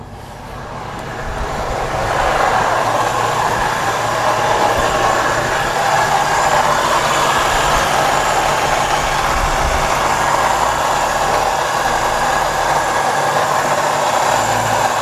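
Radiator cooling fans whirring on a Mustang GT with a swapped 4.6L 4V engine idling, forced on by an unplugged coolant temperature sensor; a close, loud, steady broadband roar that swells in over the first two seconds and then holds constant.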